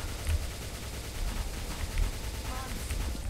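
A machine gun fires in the online shooter Truy Kich as a dense, rapid stream of shots at a moderate level, continuing steadily throughout.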